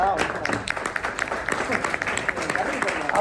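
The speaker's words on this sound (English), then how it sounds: "a round of applause for the panelists here" A conference audience at a cybersecurity panel claps in a light, scattered round of applause, with voices murmuring underneath.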